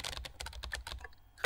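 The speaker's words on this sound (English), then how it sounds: "I'm gonna actually try typing it." Rapid keyboard typing in the game Emily is Away Too: a quick, irregular run of crisp keystrokes, close and clear with no voices, ending in a louder tap.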